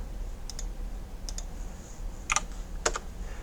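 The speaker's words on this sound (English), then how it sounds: "And when I click out here, I can just start typing in dimensions." Sparse typing on a computer keyboard: quick pairs and small clusters of crisp key clicks separated by short pauses, close and fairly quiet.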